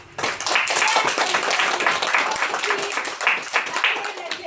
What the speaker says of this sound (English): maybe we give them a big round of applause